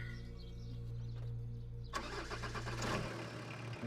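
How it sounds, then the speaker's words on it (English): A car engine cranks and catches, a short starter whir followed by a rough running engine rumble that settles toward idle, heard alone without voices. "I think he wants you to start the engine"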